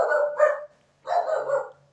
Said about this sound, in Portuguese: Cachorrinhos.